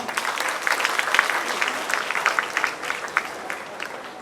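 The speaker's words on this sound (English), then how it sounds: "Let's appreciate them once again with a huge round of applause." Audience applause at a Diwali festival celebration, a sustained, moderately distant round of clapping from a sizable crowd with scattered sharper claps standing out.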